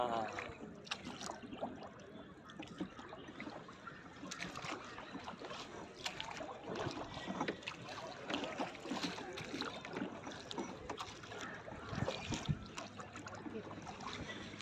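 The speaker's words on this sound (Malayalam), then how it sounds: "അതാണ് മോട്ടോർ ബോട്ട് ആ സൈഡിൽ അങ്ങോട്ടാ പോകുന്നത്" A motor boat on a lake near Ooty, heard as a continuous wash of water and churning wake with irregular splashes, moderately loud and steady, with occasional faint voices nearby.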